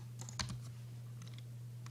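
Computer keyboard keys pressed in a few quiet clicks during 3D modelling work in Blender, close but faint over a steady electrical hum.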